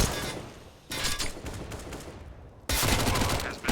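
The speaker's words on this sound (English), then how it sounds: "Oh, look at these Mac 10s, Brandon. Oh, look at him go" Bursts of MAC-10 submachine gun fire in a Counter-Strike esports match on the Nuke map, loud rapid volleys arriving in two separate close bursts amid game ambience.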